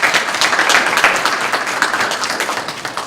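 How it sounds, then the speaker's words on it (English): Audience applause at a Fit Kids professional development training, a steady burst of many hands clapping in a room, loud and sustained without voices. "Give them a round of applause"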